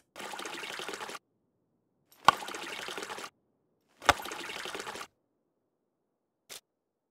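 Water bottle being filled in the survival video game SCUM, heard as three separate bursts of trickling, pouring liquid with sharp clicks between them and a short final click, no talking.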